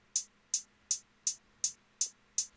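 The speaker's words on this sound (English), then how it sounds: "And then I stacked it with another hi-hat that sounds like this." Stacked hi-hat sample in a hip-hop beat, played alone: seven crisp, bright hits at an even quick pulse, each a short sharp tick that fades fast, fairly quiet.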